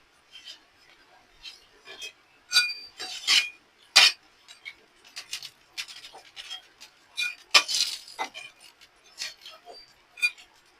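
Fried potato, carrot and prawn pakoras being lifted into a bowl give scattered light clinks, scrapes and taps of utensil on metal and crockery, sharper at a few moments, fairly close and moderate in level.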